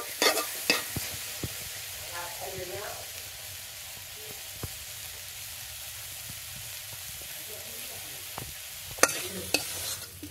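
Food frying in a pan on a home stove, a steady soft sizzle throughout with a few sharper clinks and scrapes of stirring near the start and end.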